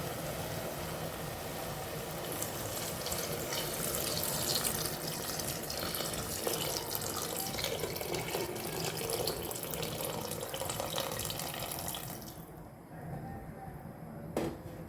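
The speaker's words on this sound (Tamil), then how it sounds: "அந்த தண்ணியை இப்போ சேர்த்துடலாம்." Water from soaked rice (one glass of rice soaked in two glasses of water) being poured into a cooking pot for mushroom biryani, a steady continuous splashing pour lasting about twelve seconds before it stops.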